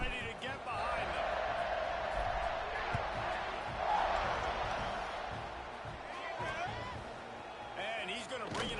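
A football stadium crowd roars steadily through a kickoff at a Texas game, a broad, sustained din of many voices with a commentator talking over it.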